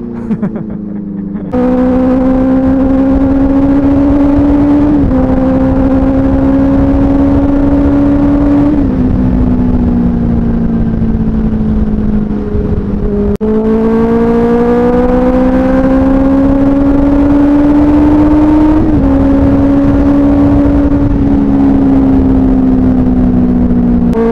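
A car engine is pushed hard toward the red line, loud and close, its steady whine climbing slowly in pitch through two long sustained revs separated by a brief dip.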